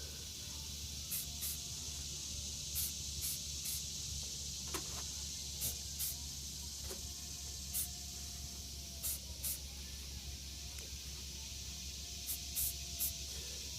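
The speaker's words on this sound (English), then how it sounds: "You just want to spray it so it makes it through the needles onto the boat." Spray paint hisses steadily from a can as it camouflages a 10-foot jon boat through a layer of pine needles, a constant close hiss broken by faint short bursts.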